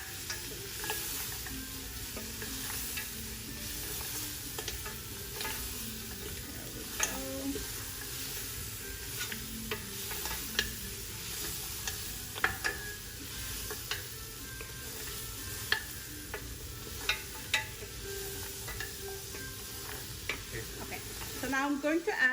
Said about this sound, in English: So now you want to just stir. Cook it down with this for a little bit.